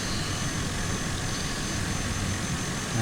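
A Cessna 208 turboprop engine in Microsoft Flight Simulator 2020 drones steadily and loudly as the throttle comes up, a continuous broadband roar with a low rumbling base that holds for the whole stretch without any talking.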